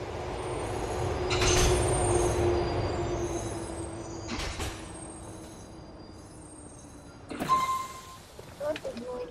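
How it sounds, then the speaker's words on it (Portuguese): A train arrives at a station in the video game GTA 4, a low rumble and long steady hum that builds and fades, with clanks near the end and someone talking over it. "Lá vem um trem."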